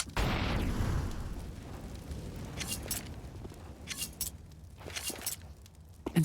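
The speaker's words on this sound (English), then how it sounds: "Roman, he eats another grenade." A grenade goes off in a Counter-Strike match on Dust 2, one loud close burst at the start that fades into scattered footsteps and faint pops.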